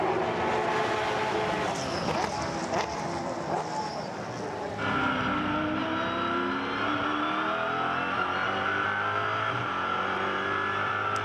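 GT race cars at the Bathurst 1000 Australian GT Championship round, engines roaring loudly and continuously as they pass and rev, with commentary running underneath.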